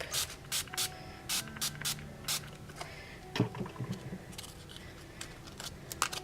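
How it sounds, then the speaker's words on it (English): Short rhythmic bursts of Glimmer Mist spray hiss onto paper flowers, about a dozen quick close pumps from a spray bottle, followed by a soft rustle and faint handling sounds. "I'm just going to spray it right on top."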